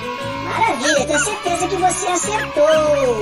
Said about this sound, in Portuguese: É o som de um cachorro!